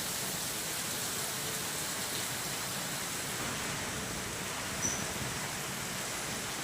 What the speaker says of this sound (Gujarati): મેઘરજ અને ધનસુરામાં પણ ધોધમાર વરસાદ છે